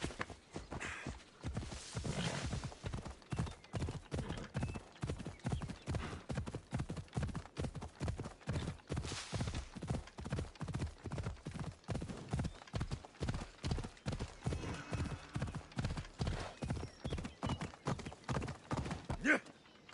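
Hooves of a horse clip-clop in a fast, steady galloping rhythm in Assassin's Creed Odyssey, close and continuous, with a brief whinny partway through.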